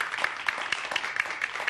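A university math lecture audience claps in a quick, fairly steady rhythm, a small round of applause at moderate volume with no talk over it.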